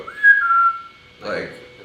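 A voice imitates a whistle, like a guard or prisoner whistling in an old prison hallway: one long rising-then-steady whistled note, then a shorter breathy second whistle after a pause, close and clear with no talking.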